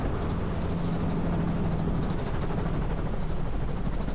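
A turbocharged gyrocopter touching down, its rotor and engine giving a broad steady roar with a rhythmic blade chop underneath, close and constant throughout.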